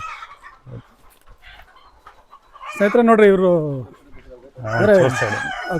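Farm chickens cluck and a rooster crows loudly and close as the birds are let out in the evening, with someone speaking briefly before the calls.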